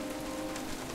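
Steady rain from a storm in the Jurassic Park video game hisses evenly throughout, a continuous wash of drops with a faint steady hum beneath, close and moderately loud with no voices.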